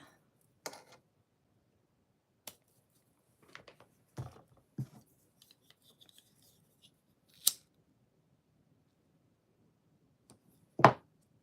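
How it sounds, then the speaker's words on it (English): Scissors snip off a thread end after a knot is tied on a flower keychain craft, several sharp, isolated close clicks spaced apart in a quiet room. "So I tied that knot in there, cutting it off a little bit."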